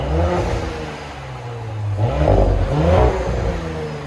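A 2021 Audi S5 with a 3.0-liter turbocharged V6 and factory sport-resonator exhaust revs in a few loud, rising and falling pulses over a steady low idle rumble, close to the microphone.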